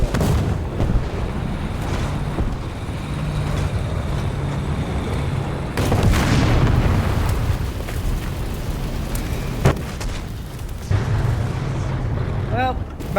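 Precision artillery fire in a war video game comes as dull booms and rumbling impacts over a constant low battlefield drone. A sharper blast lands midway.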